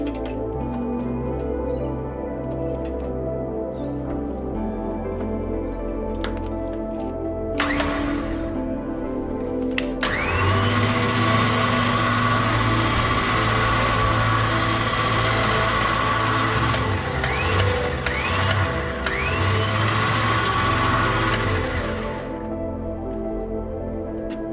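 A cheap electric winch with a wired remote, wired to a battery for a test on a 45-year-old Toyota, whirs loudly with a steady motor drone for about twelve seconds after a lower hum and a few clicks.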